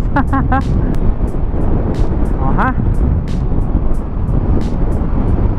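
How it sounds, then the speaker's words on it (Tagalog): Wind roars steadily and loudly against the microphone while riding an ADX 160 scooter at around 90 to 100 km/h, with a few short high chirps cutting through the constant rush. "Salong-salo ko yung hangin dito guys."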